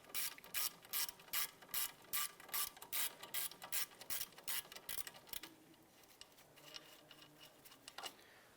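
A hand ratchet clicks in quick, even strokes while loosening the rear brake caliper slider bolt on a 2006-2011 Cadillac DTS, close and crisp for about five seconds before giving way to quieter metallic handling.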